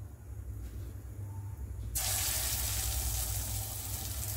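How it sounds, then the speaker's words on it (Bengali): Chicken pieces drop into hot oil in a wok for Chicken 65, setting off a sudden loud, bright sizzle that continues steadily and close after a quieter start. "এবার আমি 1টা 1টা করে চিকেন এর মধ্যে দিয়ে ভেজে নেব"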